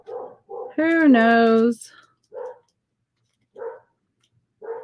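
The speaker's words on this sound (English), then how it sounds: "Oh, now he's barking." A dog barks in a short burst of loud, tonal, whining barks close by, while a person talks intermittently before and after during a live painting session indoors.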